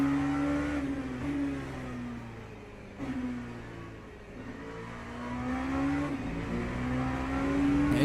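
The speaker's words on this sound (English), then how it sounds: "This Porsche will take the whole track." A Porsche race car engine in Le Mans Ultimate revs hard on track, its pitch climbing steadily, then dropping sharply at each gear change before rising again, loud and close throughout.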